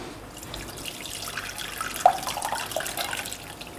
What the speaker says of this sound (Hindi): इसके बाद मैं इसको छान लूँगी।